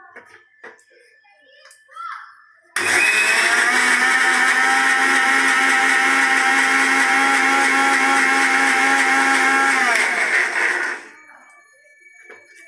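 Electric blender whirring through chocolate cake batter with oil, starting abruptly after quiet talk, running loud and steady for about eight seconds, then cutting off as the room goes quiet again.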